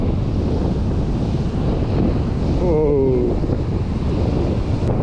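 Strong wind buffets the microphone on a winter shore while cod fishing in Northumberland, a continuous loud roar with surf beneath, and a brief voice exclaims partway through.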